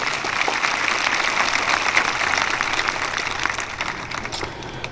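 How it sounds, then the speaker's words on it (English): Sustained applause from a large audience at a Lincoln High School graduation ceremony, a broad even wash of clapping that carries on throughout with little speech. "Please give these people a round of applause for their support for our school and community."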